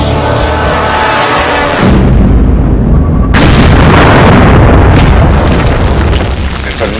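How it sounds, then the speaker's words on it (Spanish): An ammonium nitrate and fuel oil charge detonates to blast out a crater, a loud, deep booming roar that rumbles on continuously for several seconds without letting up. "Es una gran explosión que crea una gran columna de escombros"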